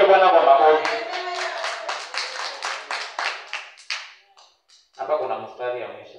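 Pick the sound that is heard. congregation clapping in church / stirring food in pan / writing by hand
congregation clapping in church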